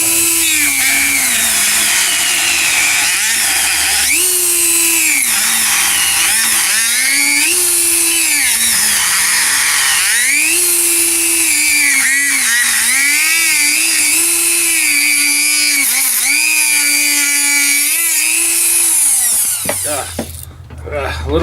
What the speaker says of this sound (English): we're gonna go ahead and chop this with the Dremel